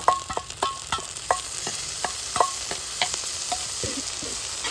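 Homemade ginger garlic paste frying in a pan for a Kerala chicken curry, a loud continuous sizzle punctuated by sharp, rapid spatula scrapes and clinks from close by, no talk.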